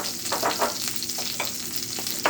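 Honey, soy sauce, ketchup, mustard and garlic powder mixture hitting frying chicken wings, a loud continuous sizzle with bursts of crackling and stirring, no voices.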